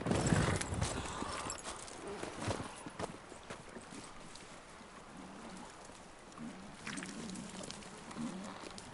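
Horse hooves clip-clopping in the video game The Witcher 3: Wild Hunt, a quiet, irregular run of steps over a low ambient wash, loudest at the start.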